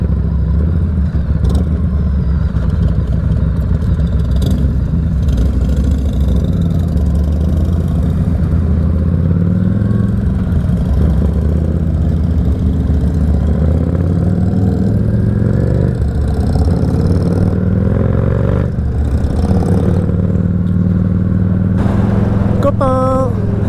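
A motorcycle engine runs continuously while riding on a road, a steady mid-pitched drone with wind rush, close and loud throughout, with a few faint clatters.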